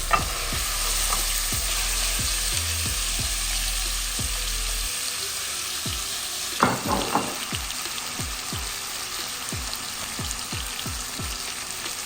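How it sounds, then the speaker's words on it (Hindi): Marinated chicken for biryani sizzles and fries steadily in a hot pan over high heat, a loud continuous hiss with intermittent clinks and scrapes of stirring, heard alone without talk. "हाई आंच करना है और फिर चिकन को डालना है।"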